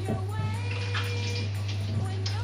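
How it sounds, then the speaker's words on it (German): Kitchen tap running while hands are washed during pizza making, a continuous water stream under a steady low hum, with faint splashes. "Ich muss nur schon wieder die Hände waschen."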